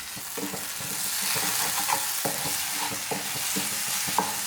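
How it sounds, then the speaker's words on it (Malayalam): A spoon stirring tomato and masala cooking in a pan, with a steady low sizzle under repeated scraping strokes and soft clacks, close up with no voices. "അതിനുശേഷം നന്നായിട്ടൊന്ന് ഇളക്കി കൊടുക്കാം"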